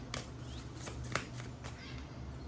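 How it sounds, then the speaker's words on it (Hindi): Tarot cards are shuffled by hand, a quiet close run of soft riffling flicks and a few sharper snaps, with no one talking. "ओके शफल करते हैं पहले अच्छे से।"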